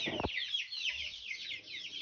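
Mixed-breed farmyard hens cluck in a continuous run of short, overlapping calls, fairly close and alone, with a brief low thump at the start.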